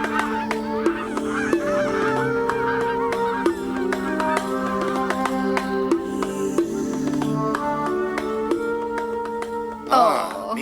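Geese honk over and over in a loud, busy flock, with overlapping calls running steadily throughout and a brief burst of scuffling near the end.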